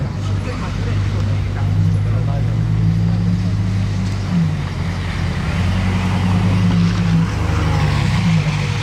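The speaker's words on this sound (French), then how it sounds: "Moi j'attendais la LaFerrari qui arrive juste ici." A Ferrari LaFerrari hypercar arrives at the Place du Casino in Monaco, its engine rumbling loud and steady amid street traffic noise, with people talking over it.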